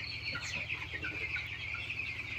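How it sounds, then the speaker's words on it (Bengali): Fifteen-day-old chickens cluck and peep together in a small flock, a continuous, moderately close chatter of short calls over a low steady hum, with no one speaking. "আজকে মুরগির বয়স 15 দিন।"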